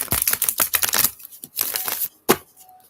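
Oracle cards being shuffled by hand, close papery riffling in quick bursts with brief pauses, ending in a single sharp snap.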